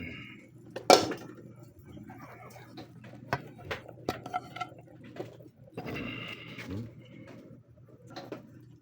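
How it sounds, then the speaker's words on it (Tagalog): Eggplant going into a cooking pot already seasoned with lemongrass: scattered clinks and knocks of a utensil against the pot, a sharper clatter early on, under a low background hum and some soft talk. "Ilagay na natin ang talong mga guys"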